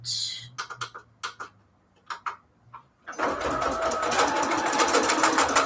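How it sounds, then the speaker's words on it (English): A sewing machine attempts zigzag stitching through felt for Valentine's Day embellishments: a few short stuttering bursts first, then a continuous loud mechanical whir for the last half. "let me just see if I can zigzag stitch, because like I said, it just doesn't want to sew through this felt"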